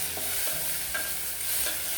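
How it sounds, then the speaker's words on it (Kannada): Tomatoes fry in hot oil in a pan with a steady sizzle and light stirring scrapes, close and continuous with no talking. "ಈಗ ಟೊಮೆಟೊ ಹಣ್ಣು ಚೆನ್ನಾಗಿ ಫ್ರೈ ಮಾಡ್ಕೊಳ್ಳಿ"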